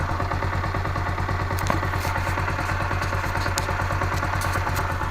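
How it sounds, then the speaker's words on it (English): Honda CG 125 motorbike engine running steadily after carburettor cleaning, a continuous mid-pitched idle with rhythmic clatter, close and loud throughout with no talk. "Got the bike going"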